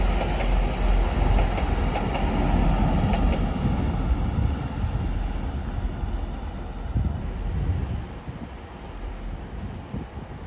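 A train, a pair of Class 185 units, rumbles past close by through a station platform at York, with a broad, steady roar and rattling wheels, the noise easing slightly toward the end.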